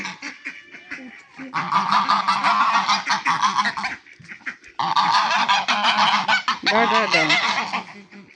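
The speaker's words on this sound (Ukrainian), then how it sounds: "Гуси розкричалися" A flock of geese in an eco-park honking loudly and insistently in two long noisy bursts, close by, with a short lull between.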